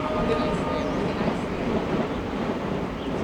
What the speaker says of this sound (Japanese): あ、電車来ました。